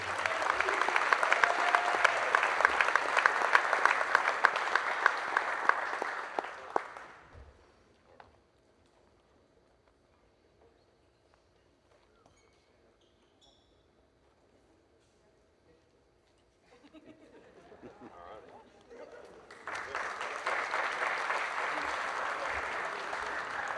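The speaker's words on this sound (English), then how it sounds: "Let's give one more round of applause for our seniors" A large crowd at a high school wrestling event applauds loudly for senior wrestlers, the clapping fading to near silence midway before a second loud burst of applause rises again.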